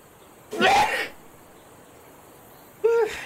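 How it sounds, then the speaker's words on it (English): Two sneezes, the first a loud, breathy burst and the second a shorter, sharper one a couple of seconds later, heard close up against a quiet background. "Oh, I gotta sneeze."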